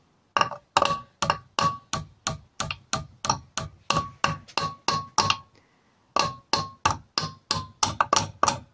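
Hammer driving a bent valve stem out of a Kawasaki ER5 engine: a steady run of close, sharp metallic strikes with a slight ringing tone, broken by one brief pause before the blows resume.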